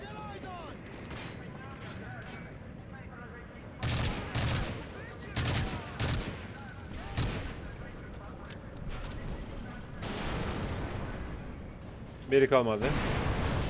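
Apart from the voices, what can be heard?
explosions in video game Call of Duty Modern Warfare 3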